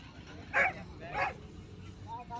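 Two sharp barks about half a second apart from racing dogs chasing a hare at a dog race final in Punjab, Pakistan, then quieter yips and faint background noise.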